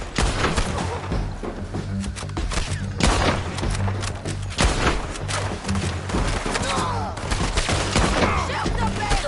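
Rapid gunfire from the Red Dead Redemption video game, dense volleys of loud, close shots and thuds that run almost without pause throughout.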